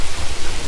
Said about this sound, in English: it's been super rainy all the time